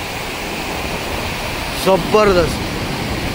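Randha waterfall at Bhandardara in full flood, a steady broadband roar of heavy falling water that fills the whole clip, with a man's brief excited exclamation rising over it near the middle.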